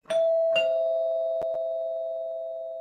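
A two-tone doorbell chimes loud and close, a ding then a dong ringing out and fading slowly, with a brief extra click partway through and no voices.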